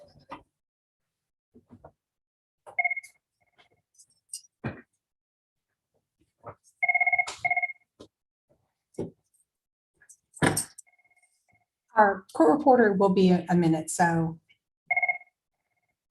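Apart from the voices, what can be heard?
telephone ringing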